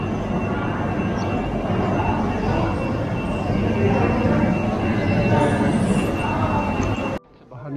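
Trains rumble at Gothenburg central station, a dense, steady low roar of rail noise and station bustle filling the space, cutting off abruptly near the end.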